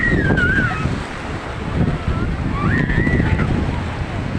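Sea waves wash steadily at a beach, mixed with heavy wind buffeting and a child's and adult's voices talking over the constant surf.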